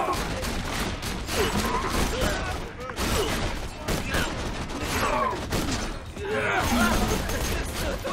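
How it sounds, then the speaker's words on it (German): In the video game Borderlands 2, rapid bursts of gunfire crackle in dense volleys with mechanical clatter and impacts. The bursts come in clustered waves, close and loud throughout. "Die Schüsse da."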